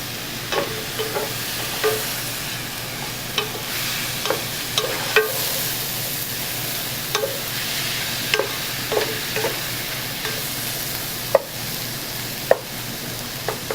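Tomatoes sauté in a pan for a South Indian chicken curry, giving a steady broad sizzle throughout with periodic scraping stir clicks from a utensil, close and moderately loud, no voices.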